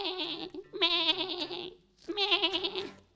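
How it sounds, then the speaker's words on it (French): Sheep bleating nearby, two long wavering bleats separated by a short pause, loud and clear with no talk. "C'est bien un brebis."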